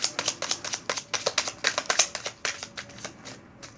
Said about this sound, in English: One more shuffle, or I take the top card.